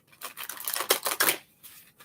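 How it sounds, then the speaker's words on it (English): Tarot cards being shuffled by hand, a few quick riffling bursts of crisp flicking and snapping close up, then brief quieter taps as the deck settles. "Let's go ahead and give this a couple shuffles."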